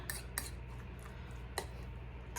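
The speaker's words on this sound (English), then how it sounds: "I'm gonna give that a stir" Spoon clinking against a bowl while pepper is stirred into a budget bruschetta mixture, a few sharp metallic taps scattered over a quiet kitchen background, no voices.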